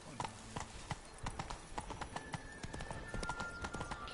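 Unicorn hooves in a video game clip-clop in a quick, even rhythm of crisp hoofbeats, close and fairly quiet, with no talk.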